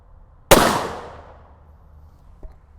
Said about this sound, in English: let's take a couple shots with it and see what happens